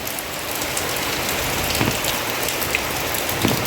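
Heavy monsoon-style downpour pounding down in a dense, unbroken roar of rain, loud and close, with occasional sharper drop impacts and no voices.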